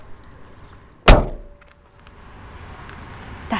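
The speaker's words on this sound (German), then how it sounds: "Allein das Geräusch von der Tür." The door of a Porsche 964 Carrera 2 with manual gearbox shuts with a single solid, close thunk, followed by a brief ringing tail and quiet surroundings.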